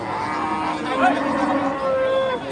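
Bulls lowing at a busy rural cattle market, one drawn-out moo rising out of a thick layer of crowd noise and other animals, fairly close and loud throughout.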